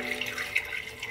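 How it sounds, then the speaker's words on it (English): Water being poured into a batch of homemade coconut milk, a soft continuous splashing and trickle of liquid, close and fairly quiet, lasting about a second with no talking. "So we're going to add the water to it."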